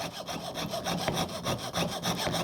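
A jeweler's saw with a number 0 blade cuts steadily through 20 gauge silver sheet, a close, continuous rasping stroke repeating in an even back-and-forth rhythm with no voices.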